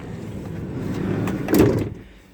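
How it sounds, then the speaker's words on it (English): The sliding door of a 2016 Hyundai i800 van rolls open, a low rumbling slide building to a louder clunk near the end, close and without talk. "So you see the door opens up, slides in, not a problem"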